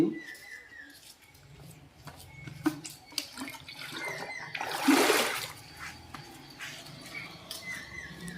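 Water is poured and splashes into a bucket for holding fish at an earthen-pond fish nursery, a soft trickle building to a brief louder gush midway, then settling into quieter dribbling, close and fairly faint.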